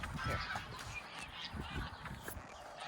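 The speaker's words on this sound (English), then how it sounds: "which is normally where the geese live. So we're gonna move the geese for a little while." Geese honking near a chain-link pen on a small farm, a dense overlapping chorus of calls that runs steadily through the whole stretch at moderate level with no talking.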